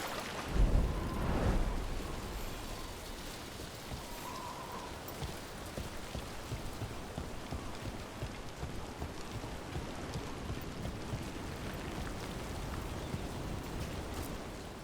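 Steady rain pours over the scene in Dragon Age: The Veilguard, a constant hiss of drops on surfaces with a low rumble near the start, continuing alone without voices.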